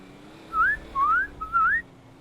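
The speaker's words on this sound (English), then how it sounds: "They don't listen to whistles" A person whistles three rising calls to summon police dogs in a GTA 5 roleplay scene, each call a short upward-sliding tone with brief gaps between, clear and near over a quiet background.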